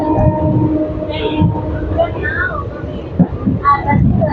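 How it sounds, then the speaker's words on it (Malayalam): The Amrita Express rolls slowly onto Pamban Bridge near Rameswaram, giving off a low rumble and some tonal whines. Voices talk over the train noise throughout. "നമ്മുടെ ട്രെയിൻ കുറച്ച് സ്ലോ ആയിട്ടാണ് ഒന്ന് കയറുന്നത്."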